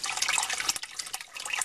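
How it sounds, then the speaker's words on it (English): Water flows into a basement sump pit while the primary pump is unplugged, a steady splashing, trickling rush close to the microphone with brief dips in level. "we have quite a bit of water coming in here."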